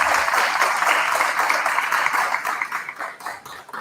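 Sustained round of applause from a community audience at a Seattle City Council candidate forum in Ballard, a dense wash of many hands clapping, steady and fairly loud before thinning slightly toward the end.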